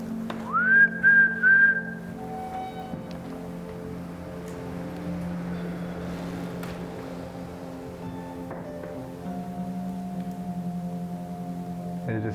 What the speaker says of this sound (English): You want to whistle with me?